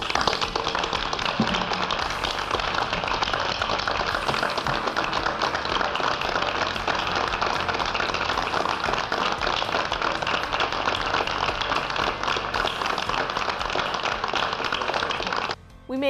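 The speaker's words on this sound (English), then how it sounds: "I think you deserve a round of applause." A round of applause at a town meeting, with a large crowd clapping in a dense, continuous roar that holds steady for about fifteen seconds before cutting off abruptly.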